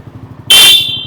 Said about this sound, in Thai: ผมกดแตรนะ